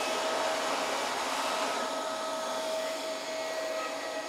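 Upright vacuum cleaner running loud and close with a steady broadband roar and a faint motor whine, no talking.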